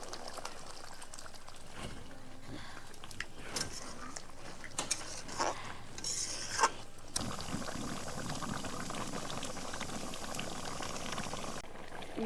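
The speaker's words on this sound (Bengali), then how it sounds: "দেখুন বন্ধুরা, ঝোল ফুটে গেছে, মাখা মাখা হয়ে গেছে।" Gravy for a prawn malai curry boils in a pot, a steady close bubbling and sputtering that runs throughout, with a few faint clinks partway through.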